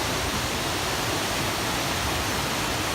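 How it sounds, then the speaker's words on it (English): Waves wash steadily onto the rocky Lake Erie beach below steep bluffs, a continuous broadband roar with no distinct breaks, loud and close, and no voices. "Got the waves going on."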